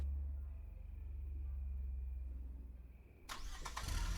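A car engine turns over and catches in the Smiling Man remake horror game, a sharp burst of cranking and engine noise arriving near the end after a long stretch of low idle rumble.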